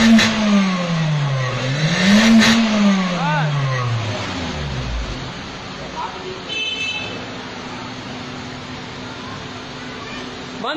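Suzuki Cultus car with an M13 engine revving up and down, engine pitch rising and falling loudly near by, with a short horn-like toot and a voice speaking.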